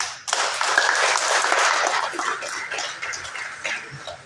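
A crowd applauds steadily for a few seconds, broad clapping that swells quickly and then gradually thins out.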